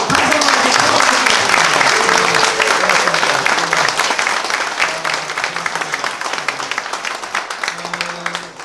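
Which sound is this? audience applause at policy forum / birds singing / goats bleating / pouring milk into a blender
audience applause at policy forum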